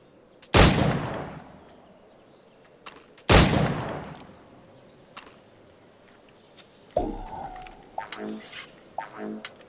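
Target practice with a pistol in Assassin's Creed IV: Black Flag sounds as two loud, booming shots a few seconds apart, followed by lighter clicks, clattering and small impacts.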